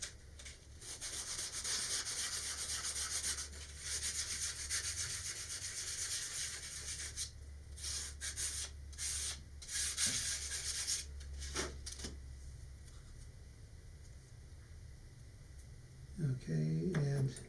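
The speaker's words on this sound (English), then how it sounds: "we need to clean up that end. And for that, I'm using 220 grit sandpaper." A model rocket part for a Saturn 1B build being sanded by hand with 220 grit sandpaper, giving a close, steady rasping rub in repeated strokes with a few short pauses and some handling at the end.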